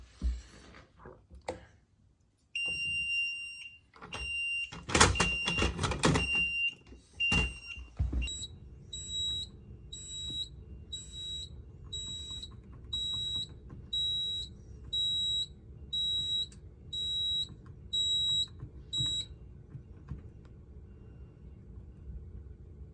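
A Notifier NFS-320c home fire alarm system sounds, first with piercing electronic tones amid clattering handling noises, then a steady series of evenly spaced high beeps pulsing over a low hum before stopping.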